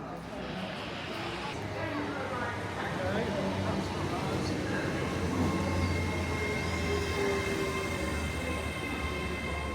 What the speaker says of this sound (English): watch some trains here in Grantham Station